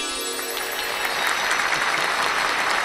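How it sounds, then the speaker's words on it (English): Applause sound effect played on a livestream, a continuous wash of crowd clapping that swells slightly partway through and stays loud to the end. "Seems like everybody that puts happy birthday and they gets a clap and a sound effect"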